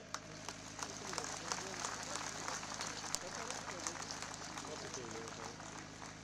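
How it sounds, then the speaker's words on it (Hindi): A crowd of party workers claps to welcome a guest at an outdoor BJP election rally in Basantpur, Basohli, Jammu and Kashmir, with faint, sustained scattered applause and a voice talking over it. "आप सभी कार्यकर्ता जोर से ताली बजा के उनका स्वागत करेंगे"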